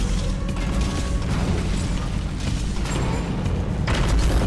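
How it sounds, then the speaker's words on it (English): Loud booming explosions and crashing bursts from a video game fill the whole stretch, dense and continuous, with a few sharper hits standing out near the start and end. "Explosions in this game are cool."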